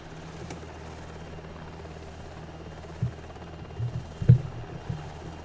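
A helicopter flies in the Prepar3D flight simulator near rows of F-35s at NAS Fallon, a steady low rotor drone running throughout with a few louder bumps and swells toward the end.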